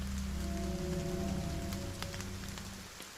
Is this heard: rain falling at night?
yes